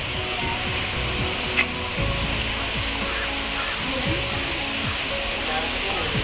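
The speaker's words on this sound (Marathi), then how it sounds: "इथून वरतून सगळं पाणी येत आहे आणि हा असा मस्त धबधबा." A waterfall at Tamhini Ghat in Maharashtra pours down from above with a steady, broad rushing roar, while a person talks over it.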